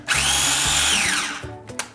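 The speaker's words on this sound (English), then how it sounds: "So I'm gonna pulse them until we get a decently fine grind on them." A small food chopper pulses toasted ingredients in a loud, whirring burst lasting under two seconds, then spins down; no one talks over it.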